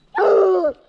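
A single sharp bark from a hunting dog being released, close and loud, lasting under a second.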